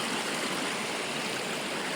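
Water flows steadily through a dam on the Khardu Khola, a continuous broad rushing hiss at moderate distance with no break or speech.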